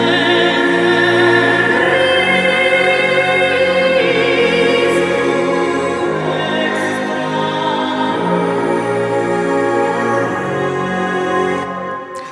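Cinematic orchestral music made in FL Studio, a loud, dense full mix of strings, low pulsing bass and a layered vocal sample, sustained for several seconds before tapering slightly at the end.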